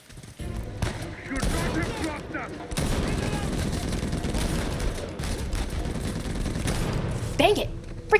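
Shotgun fire in the video game Uncharted: The Lost Legacy, loud blasts and sustained gunfire filling most of the stretch amid game effects, with bursts near the start and end.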